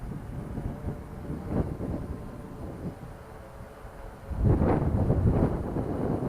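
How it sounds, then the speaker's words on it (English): Strong outdoor wind buffets the microphone during a drone's maiden flight, a steady low rumble that swells into a louder gust near the end, with no voices. "the wind is blowing pretty strong out here."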